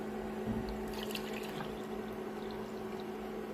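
Water simmering in a pot for a ground-grain breakfast porridge, a steady bubbling and liquid rush that stays even throughout, with a brief stir of splashing near the start.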